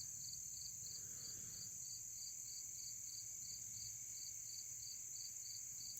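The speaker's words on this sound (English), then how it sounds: "I hear crickets and birds." Crickets chirp steadily in a pulsing, continuous high trill outdoors in a peaceful home yard, moderately loud and unbroken, with a low background hum and no voices.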